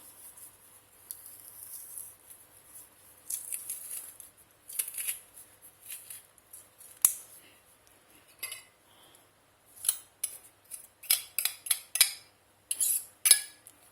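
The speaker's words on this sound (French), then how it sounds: "Donc je remue." Onions and crushed garlic being stirred in a pan, quiet intermittent scraping and light clinks of a utensil in uneven bursts, growing busier toward the end, with no talk.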